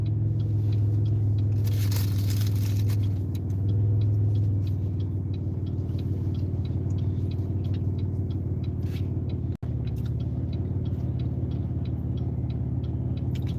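A car drives steadily while turning into the inside lane, its low engine hum and road rumble constant from inside the cabin, with a brief muffled knock partway through.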